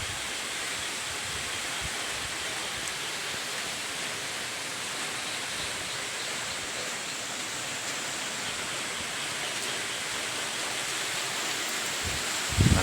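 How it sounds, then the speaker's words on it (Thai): Rain pours down at night over an open rice field: a dense, unbroken hiss that stays even and close throughout, with a brief knock at the very end. "นี้ก็ฝนตกอยู่แล้ว นะครับ"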